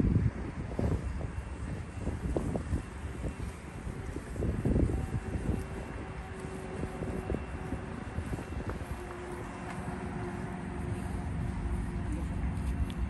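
Steady wind buffets the microphone with low rumbling gusts, continuous throughout and fairly loud, with a faint engine-like drone underneath.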